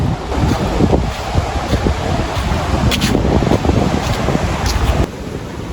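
Strong waves surge at a lagoon at Bani Hidden Paradise Resort in Pangasinan, a continuous loud wash of surf blended with heavy wind buffeting the microphone, without talk.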